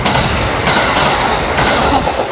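A train rumbles past close by at a JR Sangū Line station in Japan, a steady loud roar of rolling wheels with faint clacking on the rails.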